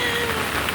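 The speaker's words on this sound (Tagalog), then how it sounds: "at tayo maglalaro sa ulan" Heavy rain pours down steadily outdoors, a dense, close hiss of drops on surfaces filling the short moment alone.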